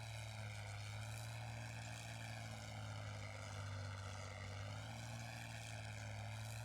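Propeller aircraft engine in the combat flight game Flyout drones steadily at a constant pitch, a fairly quiet, even hum with a strong low tone and rich harmonics, heard alone without talk.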